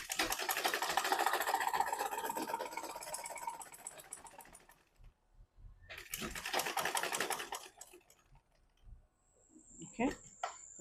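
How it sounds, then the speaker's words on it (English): A sewing machine stitches a butterfly top in quick, rhythmic bursts, a steady run followed by a pause and a second shorter run, close and fairly quiet. "Then we'll start from here and then we'll continue sewing."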